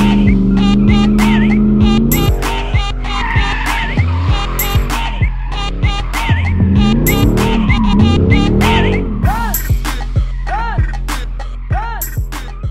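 A heavy, powerful car with plenty of torque spins its wheels on a desert course, tires squealing in repeated sharp bursts while the engine revs rise and fall, close and loud.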